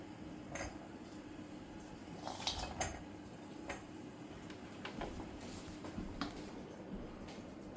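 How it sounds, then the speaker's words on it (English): A spoon stirs chopped butter and chocolate in a bowl set over a bain-marie, giving scattered light clinks and scrapes against the bowl at an unsteady pace, close by in a quiet kitchen. "I'm going to stir it until it's all melted"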